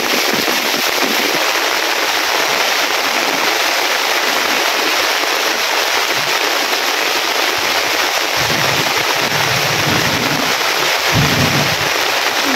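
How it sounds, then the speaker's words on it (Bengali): Heavy rain pouring steadily outdoors, a dense, loud, unbroken roar of hiss that grows slightly heavier toward the end, with no voices. "এখন আরো বৃষ্টি বাড়তে আছে"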